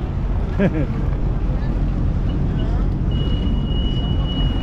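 A boat engine rumbles steadily as the boat passes close by a jet ski, over wind buffeting, with a brief voice and a thin high whine joining partway through.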